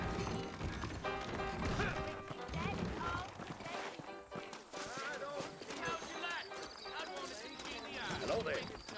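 Horse hooves clip-clopping in Red Dead Redemption, a steady beat of hoofsteps under busy game sound, music and speaking voices, with occasional heavier knocks.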